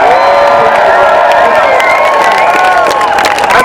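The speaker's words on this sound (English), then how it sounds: "So can we have a huge round of applause for the people?" A loud crowd at a pro-Europe street march cheers, whoops and claps in a dense, continuous roar close to the listener, with shouting voices layered over the applause.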